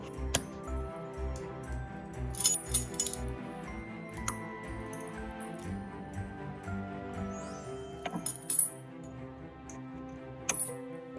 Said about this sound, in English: I'll give it a little stir just to make sure that they're blended together